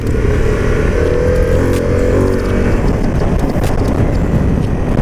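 A Harley-Davidson Pan America adventure motorcycle's engine drones loudly and continuously while riding, with heavy wind rush blended in and a steady, slightly rising pitch.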